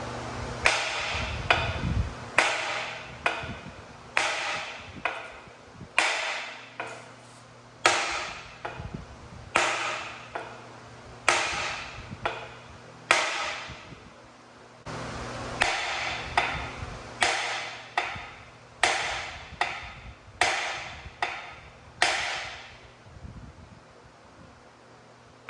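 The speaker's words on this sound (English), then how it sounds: "So I guess I'm gonna give it a couple taps and see." Sharp metallic hammer blows strike a worn ball joint on a show truck's front axle, about twenty distinct taps in irregular bursts with brief pauses, loud and close, no talking.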